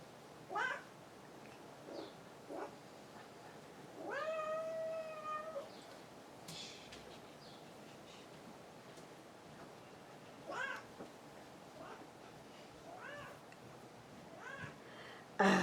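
A house cat meows several times across a quiet room, a few short calls and one longer drawn-out wail, moderately close and spaced irregularly over faint background noise.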